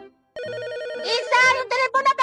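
A telephone rings with a steady electronic warbling tone that starts abruptly after a short silence, followed by a voice calling out over it.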